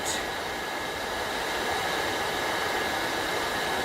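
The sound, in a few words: Zephyros dust collector running at half speed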